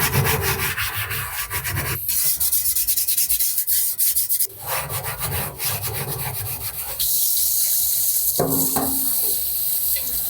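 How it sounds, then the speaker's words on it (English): Old cast iron pan scrubbed with steel wool, a loud, close, steady rasping scour in continuous strokes, with running water from a rinse mixing in toward the end. "So I'll hit those with the steel wool,"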